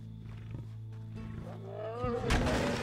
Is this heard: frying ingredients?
no